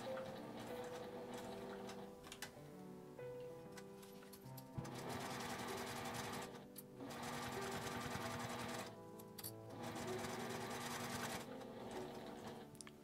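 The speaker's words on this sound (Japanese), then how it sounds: "縫い目の下を端まで縫います。" A sewing machine stitches a zippered accordion-style coin purse, its fast rhythmic mechanical whir running in bursts with short pauses between runs, close and steady.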